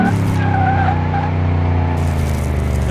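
A pink car in the video game Car Mechanic Simulator 2018 drifts under a loud, droning engine while its tires squeal in long, wavering screeches that rise and fall over the constant motor roar.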